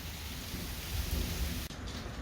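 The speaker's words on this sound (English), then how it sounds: "But now it's pouring rain, and as you can see, it's getting wet." Heavy pouring rain drums steadily as a dense, loud wash of noise, with a low rumble swelling in the middle, heard outdoors with no talking.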